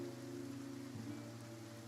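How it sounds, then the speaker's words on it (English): Steady rain falls in the video game Genshin Impact as a faint, even hiss, with a low droning tone sustained underneath and no voices. "Looks like rain."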